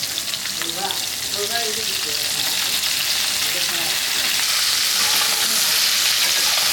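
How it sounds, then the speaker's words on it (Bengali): Mixed vegetables with capsicum frying in oil in a pan, a continuous loud sizzle with occasional stirring. "এই সবজিগুলো দেখেন হালকা হালকা ভাজা হয়ে গেছে এইবার এর মধ্যে আমি ক্যাপসিকামটা দিয়ে দিই"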